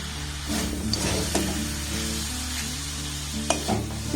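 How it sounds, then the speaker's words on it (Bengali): Semolina filling with melting jaggery stirred in a pan over a low flame, a soft continuous sizzle under a steady low hum, with occasional spoon clinks against the pan, close and unaccompanied by talk. "এইভাবে গ্যাসের ফ্লেমটাকে একদম লো রেখে এটাকে নাড়াচাড়া করবেন"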